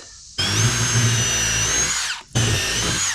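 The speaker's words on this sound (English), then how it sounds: "I'm gonna pre-drill to make sure that our wood doesn't split." A power drill whirs loudly at high speed pre-drilling wood, runs for a couple of seconds, briefly slows and stops, then spins up again.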